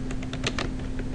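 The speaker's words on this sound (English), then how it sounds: "now what I'm going to do is type in the keyword Orland" A few quick keystrokes on a computer keyboard as a search keyword is typed into Google, light separate clicks spaced over about a second, close and fairly quiet, with no talking.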